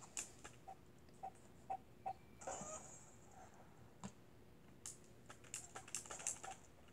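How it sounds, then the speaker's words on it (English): Scattered clicks of a computer keyboard during play of the online shooter Shell Shockers, coming in uneven bursts and single taps, fairly close but quiet, with no talking. "if you could hear me clicking on the keyboard, then yeah, that is me just clicking"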